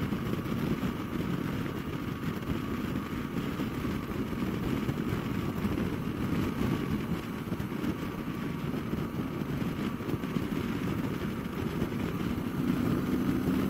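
Triumph Scrambler 1200 Steve McQueen edition motorcycle pulling hard in sixth gear on the road, a steady loud engine drone with wind rush that holds throughout, no voices.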